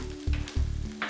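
Onion browning in a pan, with a steady close sizzle and a few soft stirring scrapes, alone over about a second.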